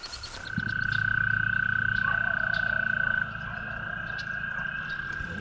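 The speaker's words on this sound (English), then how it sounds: "A million frogs out here." A dense chorus of frogs croaks in a fast, pulsing rhythm, loud and close, with a high steady trill running through.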